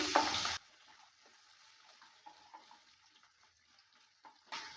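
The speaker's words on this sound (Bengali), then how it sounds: "আলুটা দেওয়ার পর ভালো করে নেড়ে চেড়ে নিচ্ছে" A short clatter opens, then cut potatoes are stirred while frying in a pan as soft, faint frying crackles and light scrapes continue quietly.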